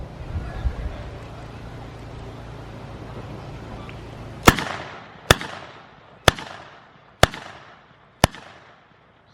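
Gunfire from a weapon at a wartime Britain display: five sharp, loud single shots spaced about a second apart, each with a short echoing tail, following a stretch of low background rumble and noise.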